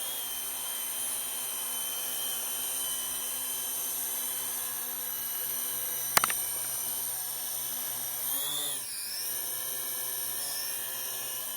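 Syma X25 Pro GPS drone lifting off and hovering nearby, its rotors giving a steady high-pitched whine throughout, with a sharp click partway through and a brief swell in pitch near the end.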